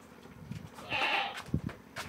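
A goat on a small farm bleats once in a drawn-out, wavering call near the middle, with soft shuffling and brief thuds around it and no talking.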